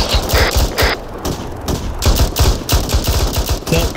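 Dense gunfire in the military shooter ArmA 3, rapid bursts of close automatic shots and thuds in uneven clusters across the whole stretch, loud and continuous with brief pauses.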